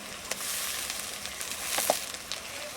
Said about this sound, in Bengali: 1 চামচ আদা রসুন বাটা দিয়ে দিলাম।